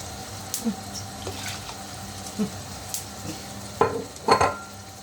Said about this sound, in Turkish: Şimdi çorbamızı karıştır.